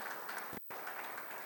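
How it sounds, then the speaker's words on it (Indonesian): Church congregation applauding for Jesus during a worship service, a broad sustained patter of many clapping hands with a brief dropout in the middle before resuming. "Kita kasih tepuk tangan buat Tuhan Yesus"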